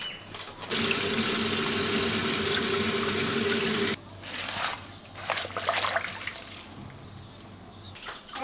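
Tap water runs steadily into a kitchen sink while something is rinsed clean ahead of making zongzi, a loud continuous gush for a few seconds, then softer splashing and dribbling as the item is washed.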